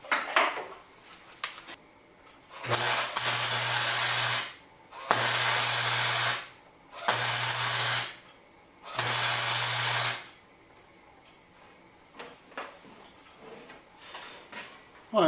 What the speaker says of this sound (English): So I'll just bend this one into place and tack it as I go along.